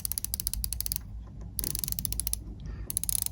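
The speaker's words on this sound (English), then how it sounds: "the clicks are a lot more definite compared to the SPB143" Rotating bezel on a Seiko Prospex Compact Solar dive watch turned in bursts of rapid, crisp ratcheting clicks, close and distinct, with brief quiet pauses between the runs of clicking.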